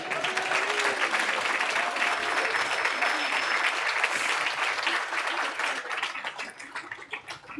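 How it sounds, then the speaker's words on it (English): An audience at a ceremony marking a pharmaceutical company's GMP accreditation breaks into sustained, dense clapping that holds steady and then thins out near the end, with faint voices mixed underneath. "I think we can clap again."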